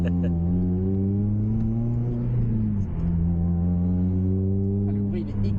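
A Honda Civic Type R VTEC engine drones and revs steadily from inside the cabin with a window open, a loud, continuous tonal growl with its pitch dipping and rising, no talk.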